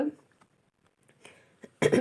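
A single sharp cough bursts out loudly at the end, after a stretch of near silence with a few soft throat sounds and breaths.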